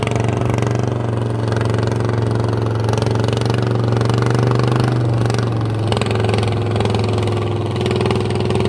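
A rice field tiller's small engine runs steadily nearby with a deep, throbbing idle, its pitch dipping briefly midway, no voices present.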